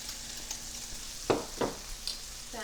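Chicken, pineapple and onions sizzling in a pan with a soft continuous fry, quiet and close, broken by a few brief scraping stirs.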